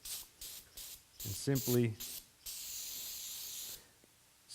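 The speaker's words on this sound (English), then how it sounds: "spray off your cap, and we can blow it off with compressed air" Brake cleaner sprayed from an aerosol can onto a motorbike brake reservoir cap: bursts of sharp hissing, first short puffs and then a longer steady spray, with a brief spoken phrase in between.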